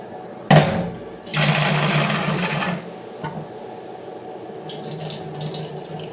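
Cooking water being drained from boiled ghugni peas into a kitchen sink, a loud splashing gush lasting about a second and a half after a short clatter, then fading to quieter trickling and faint running water.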